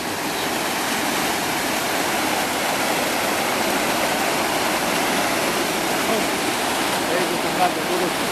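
A Tatra mountain waterfall roars in a steady, dense rush of falling water, loud and close, holding an even wash throughout with no voices over it.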